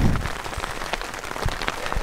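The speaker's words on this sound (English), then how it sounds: "But it's raining. It's supposed to rain off and on all day." Rain falling at a campsite, a dense, steady patter of drops close by with scattered louder taps, no voices.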